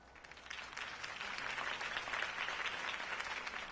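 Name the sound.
crowd applause after campaign speech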